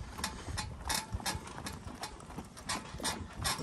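A filly named Nikky pulls a buggy on a road, her hooves clip-clopping in a steady, close rhythm with faint creaks and rattles from the cart.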